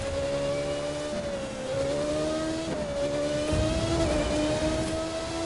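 A race car engine in The Crew 2 howls steadily on an icy track, its pitch sliding slightly up and down as it holds speed and revs, loud and continuous throughout.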